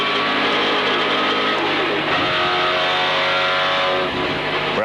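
Peter Williamson's 1979 race car climbing the mountain circuit, its engine roaring loud and steady from onboard, with revving shifts and a brief dip near the end.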